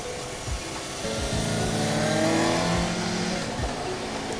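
A Suzuki GSX-S 750 motorcycle revs and accelerates hard through a couple of corners, its engine note rising and falling loud and close with no talking over it.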